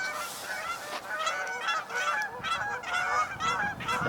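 A small flock of three Canada geese honking as they fly in, repeated overlapping calls at a steady, fairly loud level with others answering, no talk over them.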